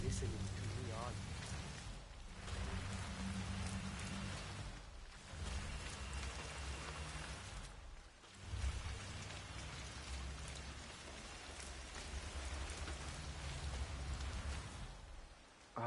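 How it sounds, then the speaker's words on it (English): Steady rain falls in the Hitman 3 video game, a dense even hiss that keeps going throughout, briefly dipping a few times, with faint low rumbles beneath it. "I'm never going out in the rain again."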